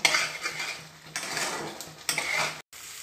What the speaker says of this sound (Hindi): अब इन्हें तब तक हमें भून लेना है जब तक कि ये तेल बिल्कुल अलग ना हो जाए